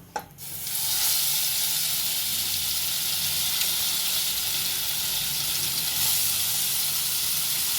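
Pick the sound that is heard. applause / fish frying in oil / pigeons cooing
fish frying in oil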